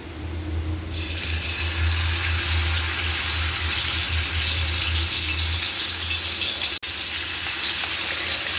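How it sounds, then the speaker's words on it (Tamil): Rava-coated bat fish (pomfret) fries in oil on a dosa griddle with a loud, steady sizzle and crackle, close up and continuous, with no talking. "அதில் மீன் வறுக்க தேவையான அளவு எண்ணெய் ஊற்றிக்கோங்க"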